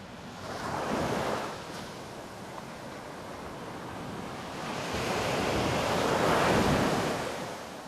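Ocean waves breaking on a Hawaiian beach, two broad surges of surf building and crashing about five seconds apart, with steady wind noise between them and no voices.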